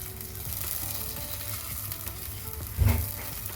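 Fried coconut stirred into a pan of pumpkin and cowpea erissery, a continuous soft sizzle under regular stirring, close, with one louder scrape near the end and no talk.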